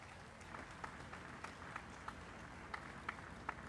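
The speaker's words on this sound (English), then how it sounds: "how about a round of applause for the Guard of Honor and the flag parties?" Faint, distant applause with a few sharper claps rises for the Guard of Honor and flag parties at a Republic declaration and presidential installation ceremony.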